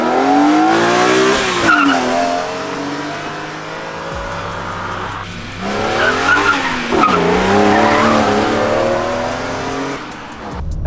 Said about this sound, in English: For those of you wondering what the E46 M3 sounds like stock without aftermarket parts